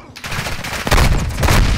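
Gunfire in Call of Duty: Modern Warfare 2, loud and close, with bursts of automatic fire and impacts growing denser in the second half as the firefight intensifies.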